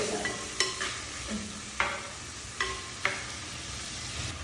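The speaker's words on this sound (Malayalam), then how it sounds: "ഓക്കെ രണ്ട് തക്കാളി ഇട്ടു ഇനി ഇതൊന്ന് വഴക്കണം" Tomatoes sautéing in oil in a pan for a fish curry, with a steady soft sizzle under several sharp spoon scrapes and taps at irregular intervals, close and fairly quiet.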